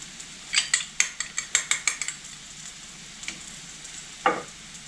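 Quick scraping clinks of a utensil stirring tomato sauce against a pan, a rapid run of about a dozen strokes, then a pause and one last scrape, close by.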